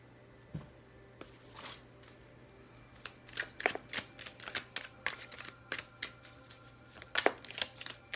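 Oracle card decks being shuffled close by, soft papery riffles and slides in irregular bursts that grow busier and louder in the second half, with no talking.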